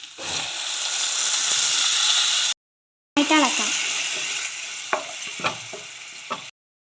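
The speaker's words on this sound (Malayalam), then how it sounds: "ബ്രൗൺ കളർ ആയിട്ടുണ്ട് ഇനി ഇതിലോട്ട് തക്കാളി പേസ്റ്റ് ഇടാം" Tomato paste added to browned onions frying in a pan for a Kerala-style tuna curry, a loud steady sizzle, a brief cut, then frying resumes with sharper spatters and stirring clatter.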